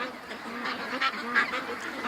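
Ducks in a pen call out in a cluster of nasal honks and quacks, several birds close by, steady and moderately loud over a short stretch.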